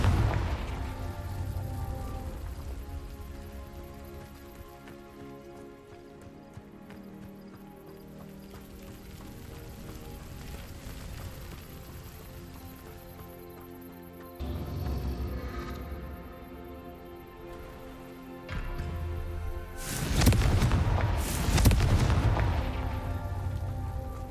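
Spell explosions from Incendio and Confringo in a Hogwarts video game: a long stretch of game music and rumbling effects, then a loud burst of blasts near the end.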